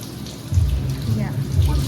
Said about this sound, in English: Just rinse it with water.